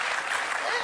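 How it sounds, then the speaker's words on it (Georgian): Applause from a studio audience at a Georgian comedy show, a brief dense wash of clapping, loud and continuous over the whole moment. "დაუკარით ტაში"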